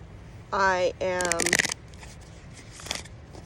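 Tarot cards being shuffled: a brief riffle and flutter of cards follows a short burst of someone speaking, then soft scattered card taps, all fairly quiet.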